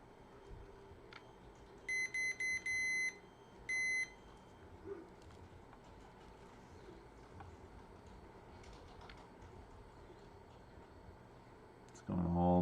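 A multimeter beeps in continuity mode while testing battery wiring on a BMW, giving a few short sharp beeps followed by a longer tone against a quiet room hum.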